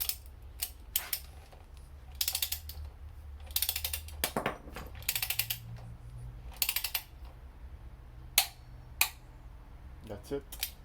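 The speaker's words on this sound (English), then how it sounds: "we need to torque this down to 40 foot-pounds of torque, or around 54 Newton meters" Sharp ratcheting clicks from a torque wrench tightening a frame slider bolt on a Yamaha FZ6 motorcycle come in quick bursts with short pauses, close up and fairly quiet.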